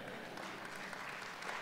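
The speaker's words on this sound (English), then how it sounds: "we should clap for that." Faint, distant clapping from an audience during a premier's conference speech, a short, soft wash of hands with no standout claps.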